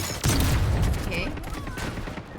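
Single sharp sniper rifle shot in a video game, a loud close crack with a brief decaying tail, set against game audio and a voice in the background.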